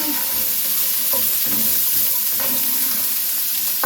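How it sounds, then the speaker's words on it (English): Vegetables sweating in a pan with salt and pepper and tossed with a spoon, giving a continuous loud sizzle broken by soft clattering stirs, with no talking. "Give this a little toss."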